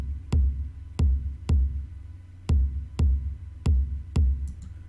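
Kick drum from a song breakdown hitting alone in a steady repeating pattern, eight deep punchy thumps with a short gap before the fourth, close and dry with no other instruments.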